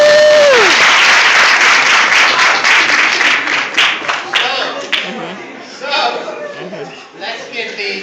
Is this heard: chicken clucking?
no